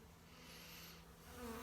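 A small late-season honey bee swarm hangs in a Banksia serrata tree, giving a faint, steady buzzing hum with no break, heard from a little distance.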